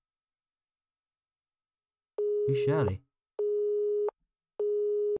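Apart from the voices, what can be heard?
strange phone noises in video game The Crooked Man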